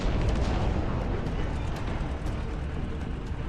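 Siege howitzer artillery in the Dustfront real-time strategy game: a loud, dense and continuous roar of overlapping cannon blasts and rumbling booms, heavy and sustained throughout with no pauses.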